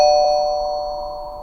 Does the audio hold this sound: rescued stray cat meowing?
no